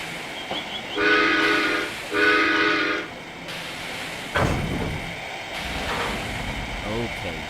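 A toy train set's steam whistle gives two sustained, harmonic toots close by, each about a second long, followed by clicks and handling noise.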